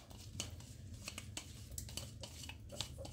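Capitaine fish being mixed with its marinade: a quiet run of irregular clinks, taps and soft scrapes in quick succession, with no talking.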